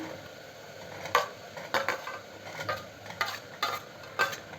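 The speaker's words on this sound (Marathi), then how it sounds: "लगेच यामध्ये आपल्याला बारीक चिरलेला कांदा टाकायचा एक मोठा कांदा मी बारीक चिरून घेतला तो तोही ॲड करते" Finely chopped onion goes into a ground masala paste in a pan, giving quiet sizzling under repeated scraping stirs of a utensil against the vessel, close up with no talking.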